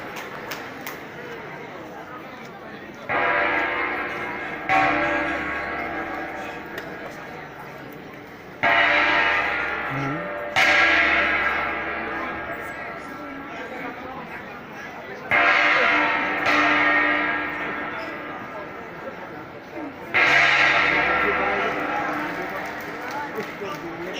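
Cordilleran gongs from Ifugao province are struck in repeated bright, ringing bursts, each strike decaying slowly before the next group begins, heard fairly close and without talk.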